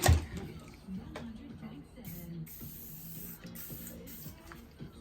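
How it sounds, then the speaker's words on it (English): WD-40 lubricant sprays from a can onto an EGO Power+ battery hedge trimmer during cleaning and maintenance. A steady, close hiss starts partway in and runs in short bursts over low background sound. "and then good old WD-40"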